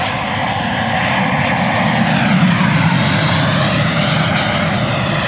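A JETFAN-110 Black Horse Viper RC electric ducted-fan jet with an 8S 3 kW motor flies close by, giving a loud, steady whooshing whine that holds level the whole time.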